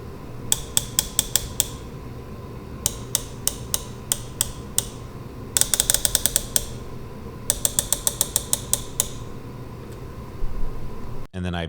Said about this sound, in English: You need to listen to these clicks.